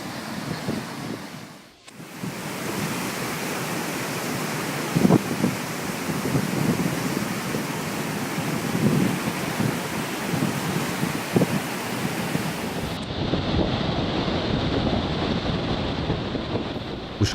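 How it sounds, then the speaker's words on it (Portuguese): A raging, stormy sea pounds Belmonte Island, Brazil's last island, with a continuous loud roar of surf and wind rushing steadily for the whole stretch, no voices. "O mar em fúria volta a assustar em 29 de maio de"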